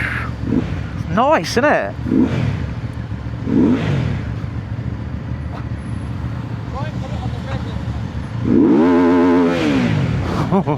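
A Benda motorcycle pulls straight off and rides away. Its engine revs up and down in repeated rising sweeps, close and loud under wind noise, with someone talking over it.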